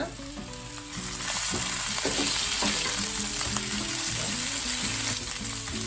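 Chopped green chillies and curry leaves crackle and sizzle in hot oil, a loud continuous frying hiss that swells after a brief pause, heard alone without talk.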